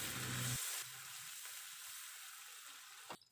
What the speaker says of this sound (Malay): tumis hingga pecah minyak ya